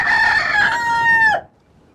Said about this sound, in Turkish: Vakitsiz öten horozu ne yaparlar?